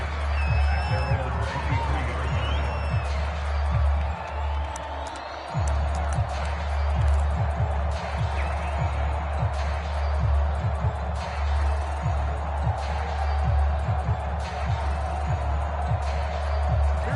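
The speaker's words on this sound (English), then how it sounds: "The crowd may be losing just a little bit of the edge after back-to-back punts." A stadium crowd in an American football video game with the 49ers keeps up a continuous murmur and cheer, with rhythmic low thumps throughout, a brief lull midway, and a commentator's voice over it.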